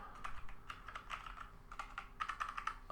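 Logitech G413 mechanical keyboard being typed on, a quick irregular run of soft clicky keystrokes, close but quiet, with no voices.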